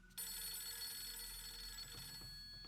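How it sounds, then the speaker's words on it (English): An old-style telephone rings in the PS2 horror game Fatal Frame III: The Tormented, a faint continuous electronic bell trill that starts abruptly and keeps going under a low ambient hum. "The guy will not stop ringing."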